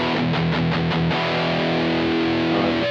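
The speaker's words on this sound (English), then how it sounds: "it's just like a flat distortion sound." A distorted electric guitar through a BOSS GT-1 effects processor plays a few chugged notes, then lets a chord ring out with a flat, buzzy, compressed tone.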